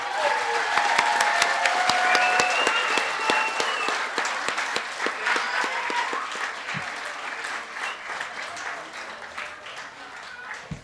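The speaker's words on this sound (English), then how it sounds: "One final big round of applause for all the amazing talent and effort these students put in tonight." Audience applause at a student year-end concert, a dense sustained wash of clapping that stays loud throughout and slowly thins toward the end.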